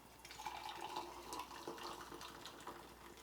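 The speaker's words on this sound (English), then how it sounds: "Let's get some hot water in there." Hot water poured from a kettle over loose Yunnan black tea leaves held in a strainer above a cup, a steady close trickling and splashing pour that runs throughout without talk.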